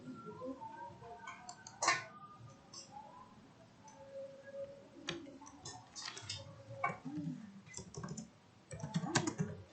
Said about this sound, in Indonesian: Oke, di sini kita buat file baru, kita kasih nama var.js. Oke, kita ketik di sini.